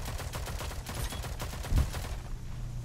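Rapid automatic gunfire in the online shooter game Rogue Company, a fast dense string of shots followed by a single heavier blast, loud and continuous with no talking.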